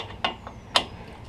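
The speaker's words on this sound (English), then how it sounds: "now we're going to move the brake caliper pins with the T55 Torx bit" A ratchet with a T55 Torx bit works on a GM truck's brake caliper pins, giving a few short, sharp clicks close by, two standing out clearly over a quiet background, no speech.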